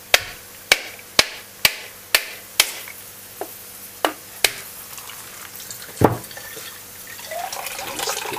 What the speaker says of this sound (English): Now with the coconut, this is a hammer.